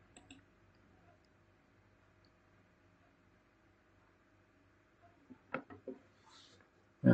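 A computer mouse clicks a few times, quick light taps clustered late in the moment, with a louder click at the very end, over faint steady room hiss.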